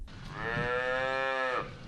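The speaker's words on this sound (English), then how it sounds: "Prisoners milk the cows twice a day, starting at 5 a.m." A dairy cow on a sprawling prison farm gives one long, loud, close moo lasting over a second, heard alone.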